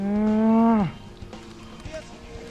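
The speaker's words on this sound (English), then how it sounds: "Another deep freeze into a sheep." A polymorphed sheep in a video game arena match gives one loud, drawn-out bleat with strong harmonics, falling in pitch at the end, followed by quiet game ambience.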